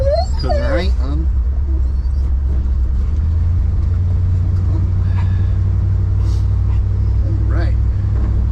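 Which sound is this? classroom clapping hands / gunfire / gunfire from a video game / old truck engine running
old truck engine running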